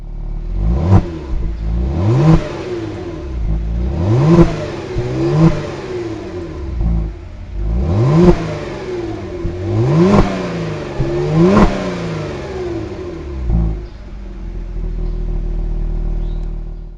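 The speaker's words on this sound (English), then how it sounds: "Let's go ahead and hear how that exhaust system sounds." A 2020 Genesis G70 luxury sport sedan is revved repeatedly through its exhaust system, about eight sharp rises and falls in pitch from a nearby idle, with no talking over it.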